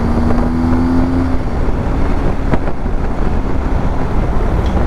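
A 2023 BMW R1250GS motorcycle engine hums steadily while riding, buried under heavy, constant wind roar across the microphone, loud and continuous with no talk.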